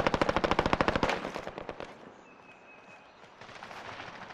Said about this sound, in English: I just hear gunshots, dude.